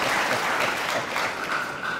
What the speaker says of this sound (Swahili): Tupie makofi jaji wetu